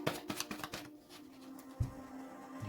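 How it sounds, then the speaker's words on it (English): Large, bulky oracle cards are shuffled by hand in a quick burst of crisp flicks and riffles, then a pause and a single soft thump as the deck settles, close and fairly quiet. "I hate shuffling these cards because they're so bloody bulky."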